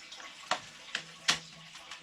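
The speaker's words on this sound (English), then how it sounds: "It's leaking right out of that seam right there." Water leaks from the seam of a sump pump check valve that is missing its flapper, giving a few sharp drips and splashes spaced about half a second apart over a faint low background.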